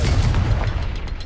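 Confringo blasting spell explosion in the Hogwarts Legacy video game, a dense, continuous low booming rumble with crackling bursts layered on top, loud throughout the short stretch.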